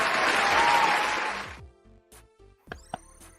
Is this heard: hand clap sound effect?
yes